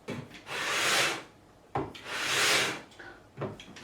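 A guitar fretboard on an Ibanez JS1000 is sanded by hand in long, even back-and-forth strokes, making three loud rasping passes with short pauses between them.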